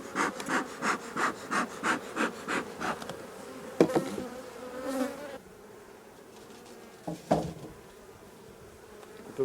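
Honeybees around a hive frame taken from a droning colony: a quiet close buzz, with rhythmic rubbing or scraping strokes at first, then a softer hum broken by a few sharp knocks.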